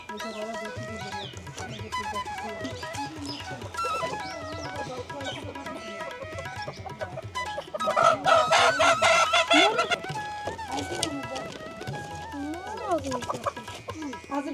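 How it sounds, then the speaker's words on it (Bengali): A village rooster crows and clucks, its calls swelling loudest midway and again near the end, mixed with other farmyard fowl and people talking nearby. "এই দেখো মোরগ"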